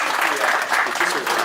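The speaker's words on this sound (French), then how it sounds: "Nous avons Monsieur Madiou Amiré, on peut l'applaudir." An audience applauding at an association meeting in Bordeaux, dense continuous clapping from many hands, loud and steady throughout.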